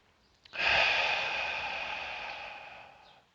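A single slow, deep breath during meditation, heard close and alone: a soft breathy rush that starts abruptly and fades gradually over about three seconds.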